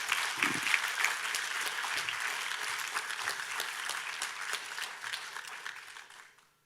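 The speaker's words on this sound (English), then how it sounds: "can we please give Mrs. Roberts another round of applause?" Applause at the Aspley State High School 2020 graduation ceremony: a large crowd claps steadily at moderate volume, then fades away over the last second.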